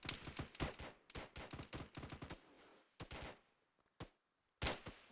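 Rapid automatic gunfire from the video game Arma 3 rattles in dense bursts, then breaks into scattered single shots and a final loud volley, with no talking over it.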